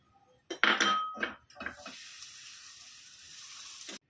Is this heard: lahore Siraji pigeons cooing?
no